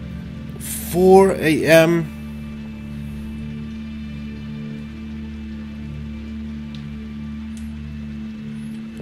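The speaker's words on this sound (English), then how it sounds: "It's raining outside." Steady rain falls outside in the Escape the Room game The Guest, a constant even hiss that continues after a short burst of speech near the start.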